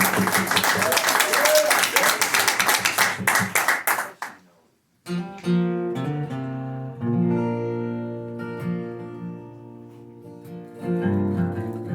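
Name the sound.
audience applause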